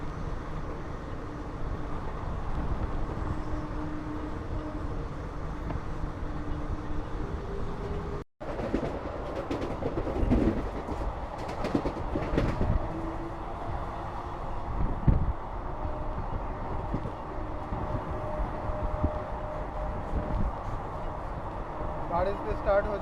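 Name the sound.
Kanchanjunga Express train running at full speed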